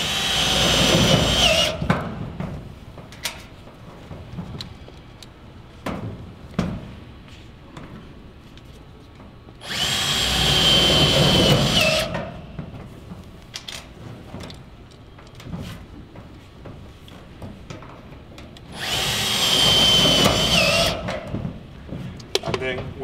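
Power drill driving four screws to mount a Hilti firestop cast-in device on metal deck, in three loud sustained bursts of several seconds each, separated by quieter stretches with someone talking and small clicks.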